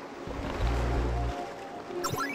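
Ocean surf in a fantasy role-playing video game, a steady washing roar of waves with a deep low swell, and a brief bright chime near the end.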